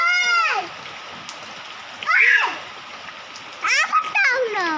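Rain falls steadily and splashes as a child tries to catch the rainwater, a soft continuous hiss beneath the excited voices of a child and an adult.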